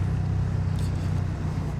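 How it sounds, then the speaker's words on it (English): Ducati Streetfighter V2 motorcycle ridden on the road in fourth gear, its engine producing a loud, steady, low droning hum throughout with no talking. "Quick shifter works lovely, really smooth, very lively engine."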